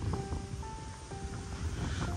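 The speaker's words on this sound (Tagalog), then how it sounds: "Grabe, lakas ang hangin." Strong wind buffets the microphone with a constant roar and low rumble, a few thin whistling tones drifting over it.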